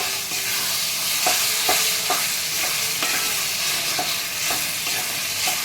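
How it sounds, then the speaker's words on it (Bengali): Mutton masala mixed with whisked yogurt is stir-fried in a pan for a Bengali kosha, a loud, continuous sizzle broken by regular spatula scrapes and strokes, with no talking. "দইটা ভালো করে ফেটিয়ে নিয়েছি মশলাটার সাথে। এবার ভালো করে আমি কষিয়ে নেব।"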